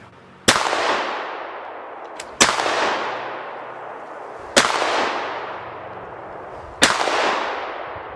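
Four loud, sharp shotgun blasts from a Canuck Sentry 870 clone pump shotgun fired outdoors, each evenly spaced about two seconds apart with a long decaying echo trailing off.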